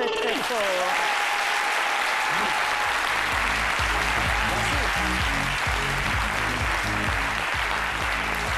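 A French television studio audience applauds loudly and steadily, an unbroken wash of clapping at even volume, with a whistle-like tone near the start and a low musical bed and voices beneath.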